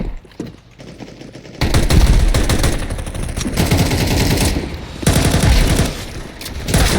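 An AK-47 fires loud, rapid automatic bursts in a video game, with short pauses between the volleys.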